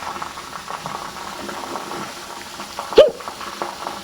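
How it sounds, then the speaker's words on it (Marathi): Ginger-garlic paste hits a hot pan and crackles with a steady sizzle and bubbling, with one sharp clatter near the end; no speech over it. "हा 1 चमचा आलं लसूणची पेस्ट मी यामध्ये टाकत आहे"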